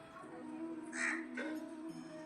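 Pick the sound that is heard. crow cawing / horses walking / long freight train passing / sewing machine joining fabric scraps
crow cawing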